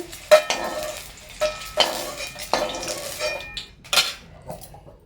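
Fried eggs lifted one by one from a pan onto a plate: a series of sharp metallic scrapes and clinks of a spatula against the pan, spaced about a second apart, with a faint sizzle underneath and no talk.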